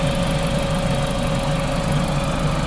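A 2006 Mini Cooper engine idles steadily and loudly close by with a constant low rumble and even vibration, no voices.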